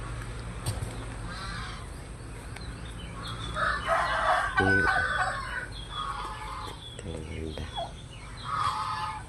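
Farm turkeys gobble and poultry calls out close by, with bursts of clucking and crowing-like cries over an outdoor background. A voice is briefly heard in the mix.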